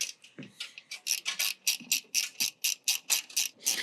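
A small socket wrench ratchets to tension the cable rail on a deck, giving a fast series of crisp, close clicks in a regular rhythm.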